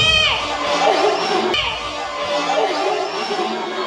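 A lively wedding crowd shouting and cheering together, a dense, loud roar of many voices with excited yells rising throughout.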